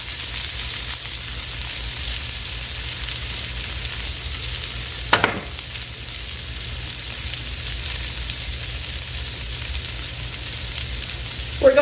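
Smoked sausage and potatoes sizzle steadily in a pan over medium-low heat, a constant close frying hiss with a brief louder clatter midway.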